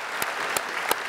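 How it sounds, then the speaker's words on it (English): A studio audience at a talk-show interview bursts into steady applause, a dense wash of clapping with a few sharper claps standing out, brief and fairly loud. "You guys, that deserves our applause."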